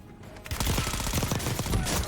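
SMG fire in Call of Duty Warzone (Black Ops 6 weapon), loud and close, bursting in after a brief quiet into rapid continuous volleys that overlap with other nearby gunfire.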